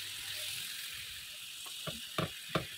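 Tawa chicken frying on low flame on a flat griddle, a steady soft sizzle with a few sharp scraping or tapping strokes near the end.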